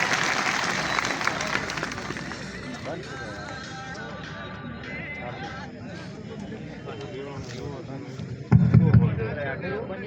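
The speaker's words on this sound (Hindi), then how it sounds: "जोरदार तालियां बजाइए एक बार।" Crowd clapping at a political rally in Banswara, fairly loud at first and then fading to a sparser patter. Voices run beneath it, and a few sharp knocks sound near the end.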